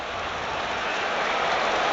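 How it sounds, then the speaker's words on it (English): Heavy, steady rain pouring down over a football stadium during a Premier League match between Arsenal and Fulham, a dense continuous hiss with no voices. "We're in the pouring rain."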